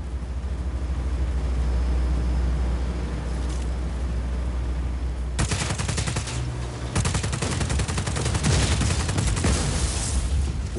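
Bursts of gunfire tear into a generator in the action game Just Cause 4, starting after a stretch of steady engine-like rumble and continuing as a loud, rapid volley of shots with no talk over it.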